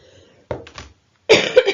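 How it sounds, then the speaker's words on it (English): A few sharp coughs close to the microphone, a short pair followed by a pause, then a harsher burst of rough coughing. "Sorry, coughing fit."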